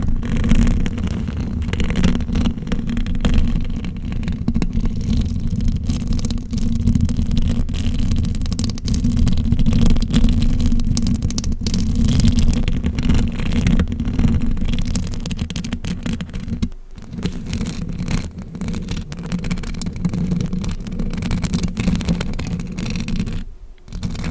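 Continuous rough scratching and rubbing right against a microphone's 3D-patterned textured cover, a dense, close, scraping texture that goes on for many seconds with brief dips.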